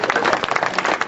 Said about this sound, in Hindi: आप लोग ताली बजा रहे हैं